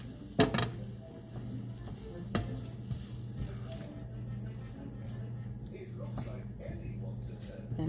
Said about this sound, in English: just stir them around